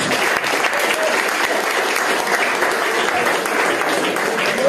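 Loud, dense crowd applause at a boxing weigh-in in Cork, continuous clapping from many people with scattered sharper claps and cheers throughout.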